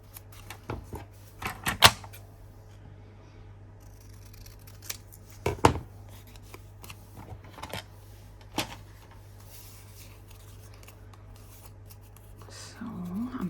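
Scissors snip paper for a junk journal folio in a few sharp, close cuts spaced several seconds apart, with quiet handling between them and a steady low hum in the background.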